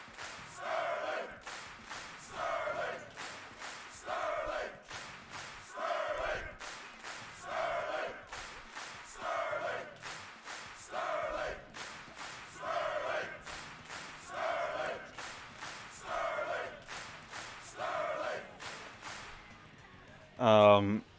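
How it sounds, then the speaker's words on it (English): Crowd at a backyard wrestling show chanting a wrestler's name, a rhythmic two-beat chant repeated about a dozen times in steady bursts, ending with a louder sharp shout. "the crowd saying his name"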